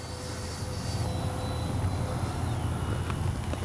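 An FMS 70mm RC F-18F V2 twin-jet makes a slow flyby, a distant, even whooshing turbine rush that swells gently over a few seconds.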